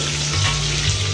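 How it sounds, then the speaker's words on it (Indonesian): Onions sizzle steadily in a hot pan of oil, a loud, continuous frying hiss with no pauses, while Malaysian chili fish is being cooked. "Tumiskan bawang Holland."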